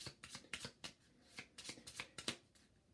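Playing cards riffled and shuffled several times in quick bursts of crisp, fluttering clicks during setup of a board game, close up and fairly quiet, with no talking.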